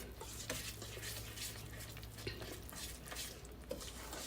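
Batter for Southern hoe cakes is stirred in a bowl, a soft, steady, wet churning with faint scrapes and light knocks against the sides, fairly quiet over a low background hum.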